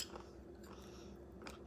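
A Frito corn chip scoop crunches as it is bitten with hot taco soup, a short chewing crunch near the mouth with a sharper bite toward the end.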